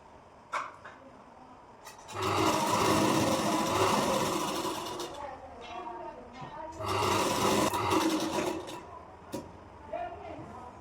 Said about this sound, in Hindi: फिर मैं ऐसे स्टिच लगा दूँगी